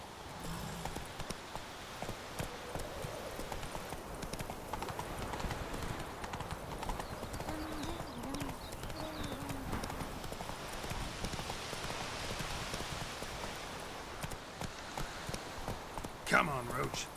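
Roach, a horse in The Witcher 3, walks along with an even clip-clop of hooves. Someone talks over the steps and game sounds play quietly behind.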